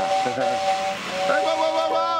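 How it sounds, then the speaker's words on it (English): A steam locomotive whistle blows a steady, loud tone, briefly broken and then resumed, over a hissing background. "The whistle is not a toy, sunshine. It's for crossings, tunnels and stations only."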